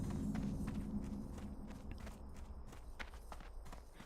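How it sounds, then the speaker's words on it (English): Horse hooves clip-clop in a quick, regular rhythm as a character rides in World of Warcraft, soft and fairly quiet against a low background hum. "the guy running or riding a horse is quiet white noise"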